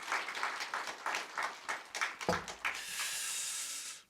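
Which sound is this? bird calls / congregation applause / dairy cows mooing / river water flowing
congregation applause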